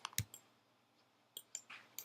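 A computer mouse clicks while a part is modelled in 3D software, a handful of short, sharp, faint clicks spaced irregularly against a quiet background.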